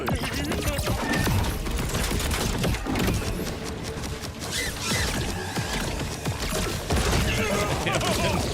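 Dense gunfire in the shooter video game Borderlands 4, rapid bursts and crashing impacts layered over game sounds with a voice talking throughout.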